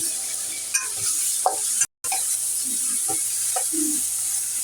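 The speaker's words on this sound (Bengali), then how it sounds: "আমি পেঁয়াজের সাথে টমেটোটা ভালো করে কষিয়ে নিয়েছি" Onions and tomatoes sauté in a pan for a Bengali pabda fish curry, giving a steady close sizzle with occasional scraping stir strokes and a brief silent break.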